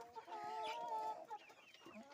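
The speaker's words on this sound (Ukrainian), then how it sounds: "Наші курочки, чубатурочки." Hens and roosters, including crested hens, cluck and murmur close by during evening feeding in a farm coop. The calls are soft and overlapping, with one longer drawn-out cluck near the middle.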